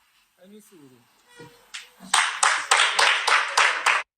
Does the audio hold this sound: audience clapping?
yes